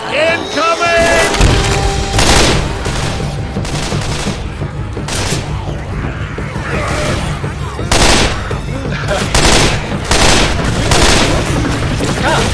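Dense, loud gunfire in Left 4 Dead 2 rattles almost continuously, with rapid automatic bursts and heavy booms layered over one another, while players shout over the noise.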